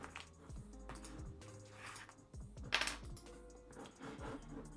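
Someone types on a dirty computer keyboard nearby, a quiet, irregular run of key clicks with no talk.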